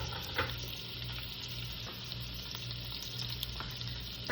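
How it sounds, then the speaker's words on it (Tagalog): Garlic sizzles in a hot pan of olive oil and butter, a soft, steady frying hiss with occasional light stirring taps, fairly quiet and without speech. "Mainit na yung pan natin, ilagay na natin yung garlic."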